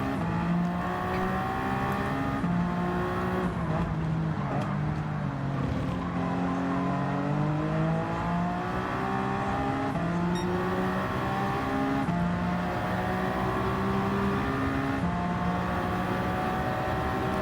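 Race car engines in Gran Turismo 7's Rolex 24 at Daytona drone continuously, with several overlapping engine tones rising and falling as cars accelerate and shift, loud and steady throughout with no talking.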